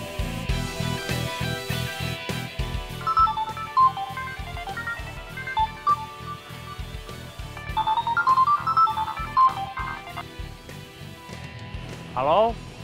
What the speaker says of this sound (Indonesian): Gak diangkat. Telepon Ibing